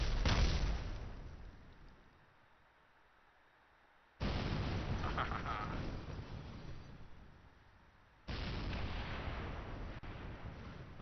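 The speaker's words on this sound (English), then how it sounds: "Just blow up all the parts." Several parts of a Kerbal Space Program craft, a large rolling weapons platform in a modded game, blow up in three loud, sharp explosive bursts, each decaying into a rumbling tail before the next roughly four seconds later.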